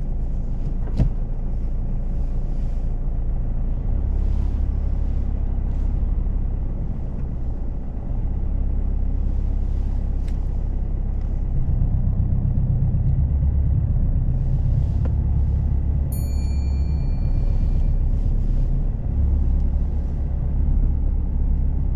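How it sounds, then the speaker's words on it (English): A car on a driving test reverses slowly, its engine a low, steady rumble heard from inside the cabin, swelling slightly partway through, with a brief ticking sound near the end. "So reverse back for two car lengths"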